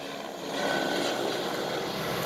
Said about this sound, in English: today is another day, and there's a helicopter in the sky.